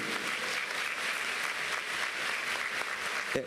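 Renewed applause for a teacher at an education forum held by a state audit court, a continuous wash of many hands clapping, moderately quiet and even from start to finish.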